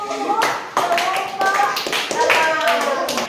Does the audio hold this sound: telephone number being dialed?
no